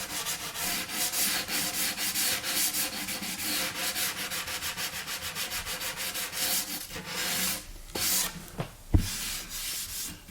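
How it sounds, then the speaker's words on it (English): Rhythmic back-and-forth scratching of sandpaper by hand on a golden oak cabinet door, close and steady, slowing into a few separate strokes and a soft knock at the end. "We'll go ahead and complete the sanding of this"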